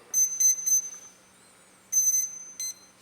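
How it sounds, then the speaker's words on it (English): Electronic speed controller on an AeroSky quadcopter with a Skywalker ESC sounding its calibration sequence, a short run of sharp high beeps, then a pause and another pair of beeps, close and clear. "once we hear the ESC sequence, beep sequence complete, then I'll bring the throttle down"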